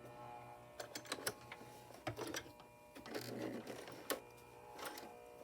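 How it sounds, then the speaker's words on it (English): A sewing machine stitches a denim mini pencil skirt for an 18-inch doll, quiet rattling bursts of needle strokes broken by short pauses and clicks. "Lower your presser foot and then continue sewing."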